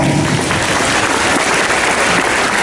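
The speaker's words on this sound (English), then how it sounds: "We'll give this group a round of applause." Audience applause at a Pine Ridge Middle School graduation ceremony, a steady, dense wash of clapping that holds loud and even for a few seconds.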